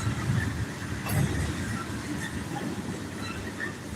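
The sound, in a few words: train passing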